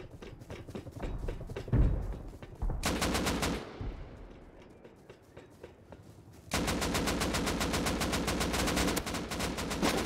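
Rapid automatic gunfire in the online game Rust, a long dense stream of close, loud shots that cuts off, gives way to quieter scattered shots and rumble, then resumes as a steady fast burst.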